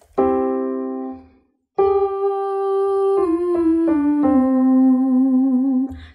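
Piano plays a sustained opening note, then a descending five-note 5-4-3-2-1 pattern for a singer's straw warm-up exercise; the notes are clear, close and steady, with no voices.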